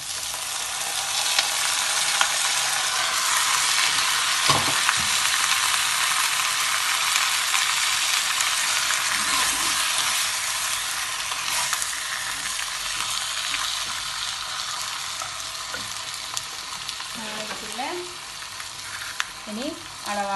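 Mutton frying in oil with cinnamon, cloves and star anise, a steady loud sizzle running throughout with a few brief stirring clatters.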